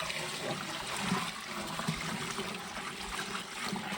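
Dissolved soap solution is poured into a spray drum for treating arecanut palms, giving a soft, continuous trickling and splashing of liquid at low level with no talk.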